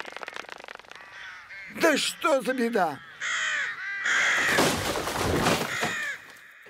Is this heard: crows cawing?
yes